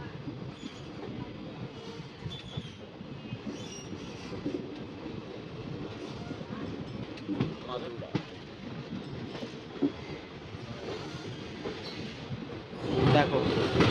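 Sengottai–Kollam Express 16102 pulling into Madurai Junction station, a steady low rumble of rolling wagons with faint clicks and a rising squeal near the end, while a voice talks.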